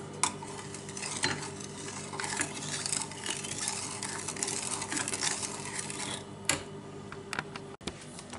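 Spatula stirring a thickening cream mixture for torta imperial, a continuous close scraping and swishing with rhythmic strokes and occasional sharper clicks against the pan, without talking.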